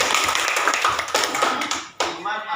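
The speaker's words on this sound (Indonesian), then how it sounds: "Tepuk tangan dulu, kasih tepuk tangan." Children in a classroom clap their hands together on a teacher's cue, a short burst of quick dense claps close by, with a brief pause near the end before clapping resumes.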